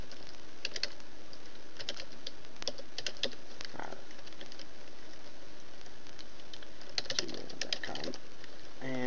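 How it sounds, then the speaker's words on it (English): Typing on a computer keyboard while filling in a nickname and password on a website sign-up form: irregular bursts of close, crisp key clicks with short pauses, over a faint steady background hum. "so I'm going to type my nickname"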